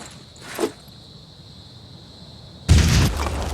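A grenade goes off in Phoenix Point, a sudden loud explosive blast that erupts after a quiet stretch with a soft earlier thump, then rumbles on.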